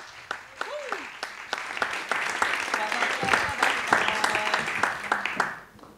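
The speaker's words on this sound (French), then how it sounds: "je vous remercie d'applaudir chaleureusement la DGS de la ville de Vertou" An audience at a public-sector management talk applauds warmly for a guest, dense clapping swelling then fading, with a voice speaking over the start and later.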